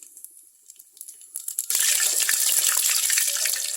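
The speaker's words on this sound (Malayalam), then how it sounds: "നമ്മുടെ കടുക് പൊട്ടി വരുമ്പോഴത്തേക്ക് ഒരു 1/4 ടീസ്പൂൺ ഉലുവ അതും കൂടെ ഇതിൻ്റെ കൂടെ ഇട്ട് പൊട്ടിക്കാം." Mustard seeds, fenugreek and cumin pop into hot oil for a sambar. Scattered crackles come first, then a dense, loud sizzling spatter that keeps going close by.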